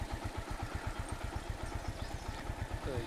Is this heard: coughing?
no